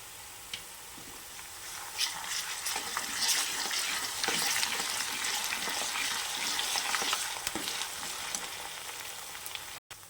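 One tablespoon of ginger garlic paste fries with turmeric in a pan for an ivy gourd curry, a soft steady sizzle with scattered stirring clicks that cuts off abruptly at the end.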